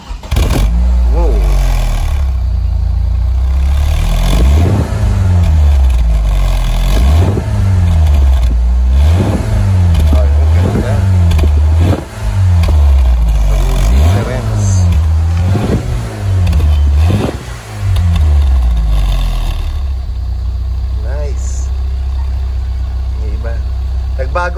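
A car engine revs repeatedly through a very large muffler fitted with a new tip, a dozen or so rhythmic rising and falling bursts of deep exhaust roar, then it settles to a steady idle.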